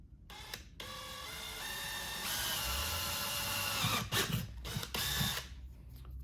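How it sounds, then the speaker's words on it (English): Small drill boring a hole in a metal bracket on a BMW K1600B motorcycle, a whirring motor that rises in pitch, then a few short grinding bursts as the bit bites, fairly faint and close. "You can drill a little small hole in this bracket right here to give you something to wire tie to"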